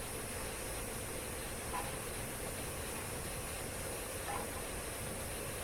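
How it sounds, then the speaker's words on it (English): Steady rail rumble and hiss heard from inside a Mark I coach hauled by the Flying Scotsman steam locomotive, a constant broadband roar with faint periodic clicks of wheels over rail joints. "inside a Mark I coach being hauled by a Flying Scotsman"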